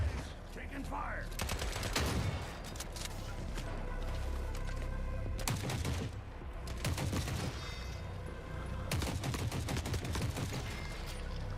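Bursts of rapid gunfire in the shooter video game The Forever Winter, several loud volleys of automatic fire with short pauses between them, sometimes close and sometimes further off.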